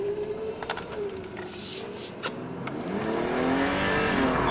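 Nissan Skyline engine revs hard, its note climbing and holding loud and near while the wheels spin on a salted winter road, with tyre and road noise building underneath.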